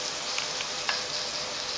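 Sprouts pepper masala gravy cooking in a pan, a dense, even hiss of frying with a few faint pops and taps, steady and fairly close throughout.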